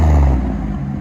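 A 2010 Buick Lucerne with a 3.9L V6 and a muffler delete gives a short, loud, deep exhaust rumble close up that eases slightly over one second.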